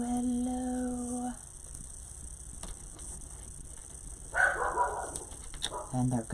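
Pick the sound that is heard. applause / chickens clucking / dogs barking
dogs barking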